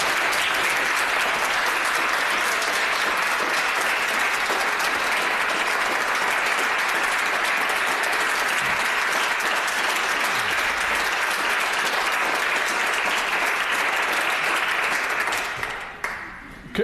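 Applause in a parliamentary chamber after a World AIDS Day speech: a long, loud, unbroken roar of clapping from many members that continues for several seconds before cutting off abruptly at the end.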